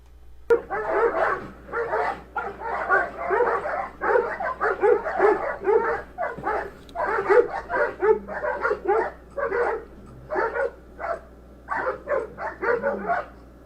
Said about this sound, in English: you heard the dogs barking a while ago, right?